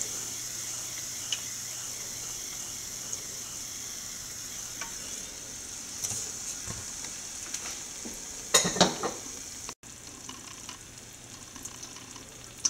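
Neyyappam, sweet rice fritters, frying in hot oil, giving a steady close sizzle with a bright hiss throughout, broken by a brief louder burst of spattering and utensil clatter near the end.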